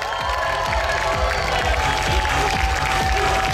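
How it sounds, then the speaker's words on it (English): Convention crowd at a comic con cosplay contest applauding and cheering the contestants, a loud continuous roar of clapping and shouts with a steady pulsing beat underneath. "let's give a round of applause to all the fantastic contestants we got here"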